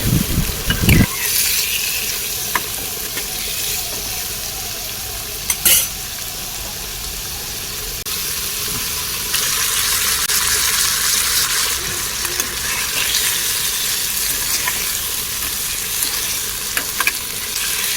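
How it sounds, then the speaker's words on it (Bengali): Prawns fry in hot mustard oil in a wok, producing a loud, dense sizzle that holds steady throughout, with a couple of brief clatters from stirring near the start and middle. "এবার কড়াইতে সর্ষের তেল গরম হয়ে গেছে, চিংড়ি মাছগুলো দিয়ে দিয়েছি। এবার এটা ফ্রাই করে নেবো।"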